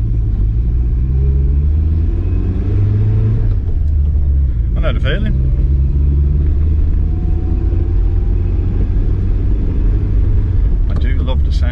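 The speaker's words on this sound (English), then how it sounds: "I do love the sound of an imp engine though. Very distinctive." A 1972 Hillman Imp Deluxe engine idles cold and rumbles steadily in the foreground, low and continuous, while people talk over it briefly.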